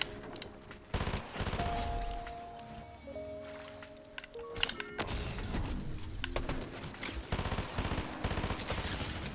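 Gunfire in the shooter game Fortnite, bursts of shots and sharp cracks mixed with tonal game effects and bleeps, fairly dense and continuous throughout.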